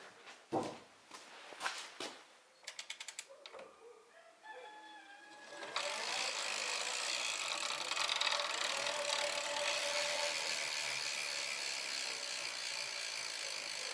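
A repaired E-Azimut electric bicycle being switched on, with a few clicks and light mechanical taps followed by a steady, bright whirring motor hum that starts suddenly and runs on evenly, fairly quiet and close.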